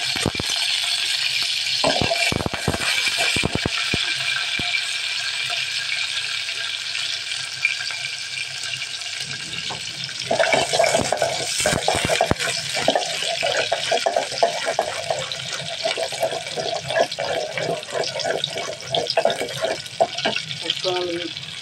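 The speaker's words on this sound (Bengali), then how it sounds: "এখন আমি পরিমাণ মতো তেল দিয়ে দিলাম, পেঁয়াজ কুচিটা দিয়ে দিলাম" Chopped onion in oil sizzling steadily in a pot on the stove for a Bengali prawn, potato and long bean dish, a loud broadband hiss running throughout with clanks and scraping, busier in the second half.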